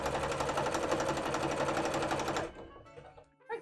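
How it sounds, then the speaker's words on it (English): A sewing machine runs a zigzag stitch on stretch fabric for a cosplay costume, a steady close mechanical whirr lasting about two and a half seconds, then stopping into quiet handling sounds and a brief clack. "Aha! Sewing!"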